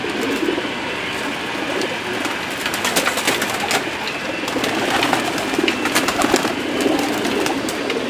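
Pigeons coo and flutter in a loft while a bird is caught, with dense rustling wingbeats and shuffling close by and soft cooing spread throughout at a steady level.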